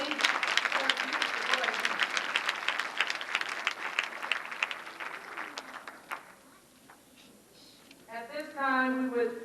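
Audience applause at a 1992 Dr. King tribute event at Ferris State University, a dense clapping wash lasting about six seconds before fading into quieter room sound, with voices and a brief tonal sound near the end.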